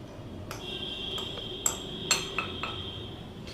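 Flour, baking powder, baking soda and salt are sieved together for a chocolate cake, with a handful of light metallic taps and ringing clinks from the sieve over a soft steady background hiss.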